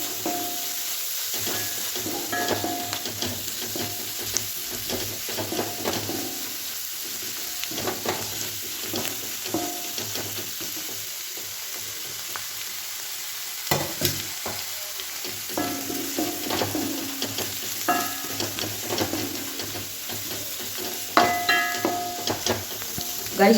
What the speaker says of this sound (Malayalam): ഇതൊക്കെ കൂടി നല്ലപോലെ മിക്സ് ചെയ്തെടുക്കുക